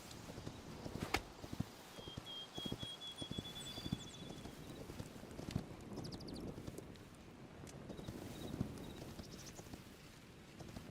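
Horses in the video game Hytale clip-clop in a steady, uneven walking rhythm with occasional wind noise, moderately close and fairly quiet, with no talk over them.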